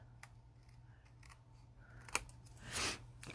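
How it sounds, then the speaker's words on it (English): Scissors snip through card paper while trimming a handmade class card, several quiet cuts ending in a louder sharp snip and a brief rustling slide of the blades, close and alone. "I'm going to take my scissors and just trim it"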